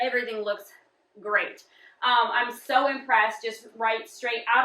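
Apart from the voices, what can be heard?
No everyday noise stands out behind the speech.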